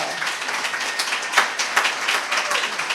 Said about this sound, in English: Applause is just for the name, before I even get into the bio